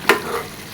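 A quick stir of food in a hot pan during home cooking, a single short scraping stroke over a low background sizzle, close and alone without talk.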